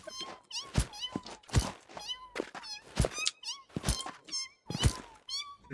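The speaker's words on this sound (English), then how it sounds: "Yes, they make cat sounds, it's great. They're mewing at me." Creatures in a survival video game give repeated high, wavering cat-like mews, several in a row, interspersed with loud dull thumps in an uneven rhythm, fairly close and clear.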